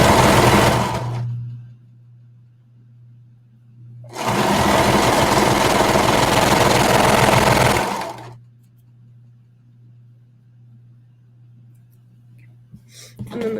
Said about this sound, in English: we're just going to sew along the short ends of the raw edges